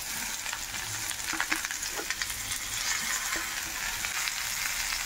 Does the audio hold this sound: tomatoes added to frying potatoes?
yes